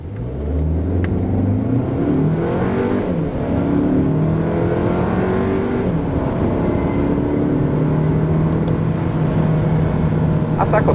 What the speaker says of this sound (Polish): jak auto przyspiesza od 0 do setki